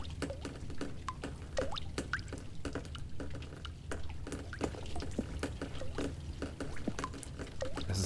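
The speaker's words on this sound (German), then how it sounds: "Es ist undicht geworden." Water drips from a leak in The Stanley Parable: Ultra Deluxe, a steady patter of many small, sharp drops falling at an irregular rhythm over a quiet background hum, with no voices.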